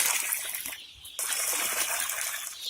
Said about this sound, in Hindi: अब इस पानी को बढ़िया तरीके से मिलाएंगे।